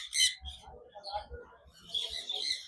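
A breeder pair of sun conure parrots gives bright, shrill chirps and squawks in short bursts, fairly close, with other birds calling in the background.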